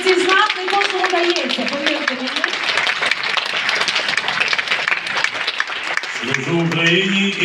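An audience claps through an award ceremony as an honorary badge is handed over, steady dense applause running the whole stretch, with a voice speaking over it near the end.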